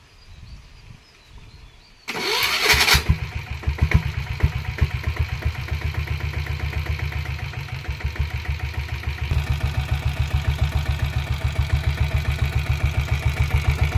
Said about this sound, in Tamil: செல்ஃப் போட்டு காட்டுற பாருங்கள்.